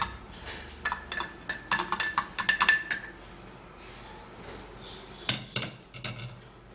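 A spoon clinks and scrapes against the inside of a glass as a drink is stirred, quick bursts of close metallic tinkling, then a pause before another short flurry of clinks.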